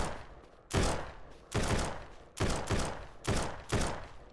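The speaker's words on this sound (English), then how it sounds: "Where's all the gunfire coming from? I don't even see anybody shooting." Gunfire in the SurrounDead video game, five or six loud bursts spaced about a second apart, each one sharp and booming before it fades.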